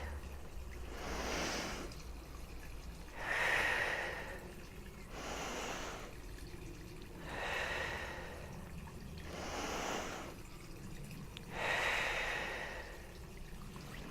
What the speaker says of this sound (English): breathe out through your mouth on the out breath